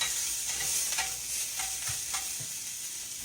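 Food browns in a frying pan with a steady, dense sizzle and occasional soft utensil taps and stirring, close and fairly loud, with no talking.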